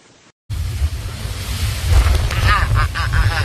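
Strong Typhoon Sinlaku wind on Saipan roars loudly and continuously, buffeting the microphone after a short near-silent opening.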